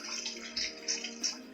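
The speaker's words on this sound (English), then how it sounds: "I'm not sure how much boiling water I'm supposed to put in there" Boiling water is poured into a mixing bowl while baking a chocolate orange treat, giving faint, brief splashing gurgles in a few quick bursts against a quiet background.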